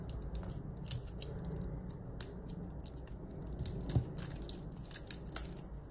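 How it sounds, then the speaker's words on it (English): A knife slices open the plastic wrapping on a grey dot grid planner, giving faint close-up snipping and crinkling over a low background hum, with a few sharper clicks and no voices. "open up the plastic on this one."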